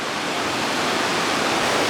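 A river in a Montenegrin canyon rushes toward a waterfall, producing a steady, loud broadband roar of flowing water with no voices.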